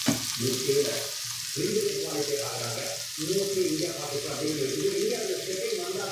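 Onions sauté in a pan for a kurma with a continuous sizzle and crackle, while a person talks steadily over the cooking.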